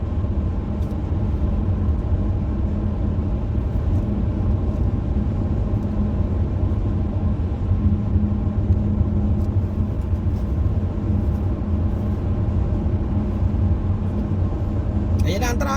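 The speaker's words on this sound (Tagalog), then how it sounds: "My goodness. Ang traffic dito." Continuous road traffic near Riyadh heard from inside a moving vehicle, a steady low engine and tire rumble that holds evenly throughout, with faint talk now and then.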